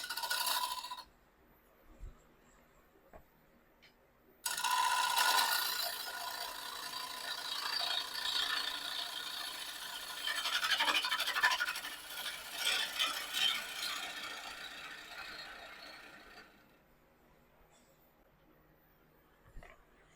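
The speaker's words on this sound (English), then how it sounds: "when I do this with a 5/8 bowl gouge, again, it's easier until it gets into round" Wood lathe turning a bowl with a 5/8 inch bowl gouge, a sustained scraping, hissing cut that runs steadily for about twelve seconds with swelling bursts, then stops into near quiet.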